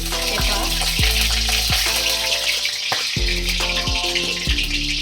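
Oil left from frying paneer heats in a kadhai for tempering. It sizzles and crackles steadily, and a few hollow clanks of a ladle or pan cut through at intervals.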